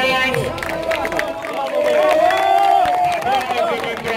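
Audience applause and cheering for the race podium finishers in Brașov, a steady crowd roar with clapping and babble throughout, close and fairly loud.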